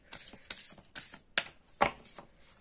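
Tarot cards being shuffled by hand during a pick-a-card reading, heard as a string of quick, soft riffling bursts in an uneven rhythm, close and fairly quiet with no talking.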